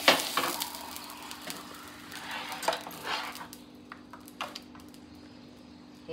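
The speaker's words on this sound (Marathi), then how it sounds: "हे घावण्याचं पीठ सोडते" Rice flour ghavna batter poured onto an oiled pan, giving a steady soft sizzle with brief scraping and clinks of utensils near the start, then fading quieter.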